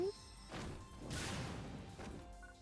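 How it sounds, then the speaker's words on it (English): An ice spray spell is cast in the video game Phantasy Star Online 2, a faint burst of noisy whooshing and crashing that swells and fades over a couple of seconds. "Oh, that's a big ice spray."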